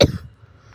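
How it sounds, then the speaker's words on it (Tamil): A single close cough, sharp at the start and trailing off quickly, from someone describing heavy rain at a family-deity temple consecration ceremony in Tamil Nadu. "சாரிங்க அடிக்கடி இருமல் வந்து டிஸ்டர்ப் பண்ணுது"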